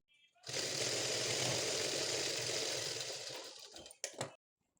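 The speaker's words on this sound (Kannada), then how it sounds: "ಆ ಲೆವೆಲ್ಗೆ ಫೋಲ್ಡ್ ಮಾಡಿ ಸ್ಟಿಚ್ ಮಾಡ್ಕೋತಾ ಇದ್ದೀನಿ" A tailor's sewing machine stitches along the folded hem of a blouse, running in one steady loud whir for about three and a half seconds before stopping with a couple of short clicks.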